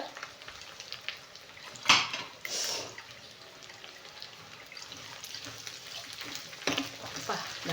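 Garlic fries in sesame oil with a steady, fairly quiet sizzle, broken by a couple of louder spitting bursts and occasional stirring noises.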